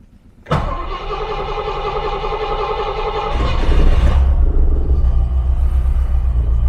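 A Rover V8 car engine, back on the road after 12 years, cranks and fires into life with the choke pulled out. It settles into a loud, steady idle, then deepens into a heavier rumble as it runs on, with no talking.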